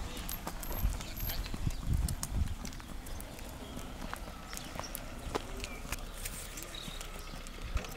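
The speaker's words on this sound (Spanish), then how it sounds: "Dale tú la vuelta al caballo para arriba, Adrián." Hooves clip-clop on hard ground at a walking pace, with voices calling in the background and a steady outdoor murmur.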